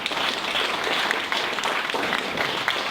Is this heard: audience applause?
yes